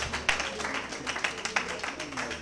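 Audience applause at a graduation and diploma ceremony, a continuous patter of clapping with a few sharper hand claps standing out, moderately loud and sustained, with a faint voice underneath.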